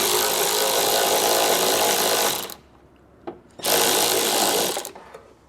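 A power tool with an extension buzzes loudly for about two seconds removing plastic nuts during a trailer hitch install on a 2023 Volkswagen Tiguan, pauses briefly, then runs again for another burst.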